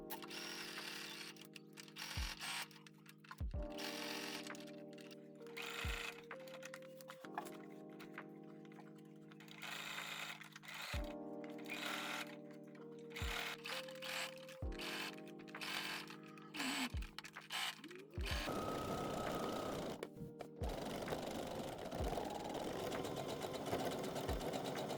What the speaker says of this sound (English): we're going to take it to the sewing machine and we're just going to sew along the inside edge and the outside edge